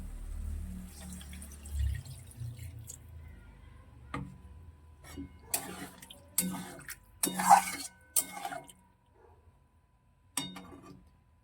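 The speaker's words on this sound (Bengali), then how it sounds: "এবার এটা অল্প করে জল দেবো একদম সামান্য জল" A little water is poured into a cooking pan over a browned, fried mixture, with scattered clinks, drips and splashes of pan and utensil at close range and no talking.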